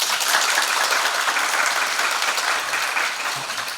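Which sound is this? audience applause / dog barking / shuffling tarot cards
audience applause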